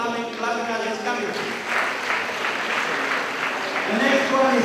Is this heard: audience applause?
yes